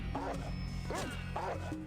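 Barks from the dog companion Dogmeat in the Fallout video game, three short bursts spaced across a busy game background with a steady hum.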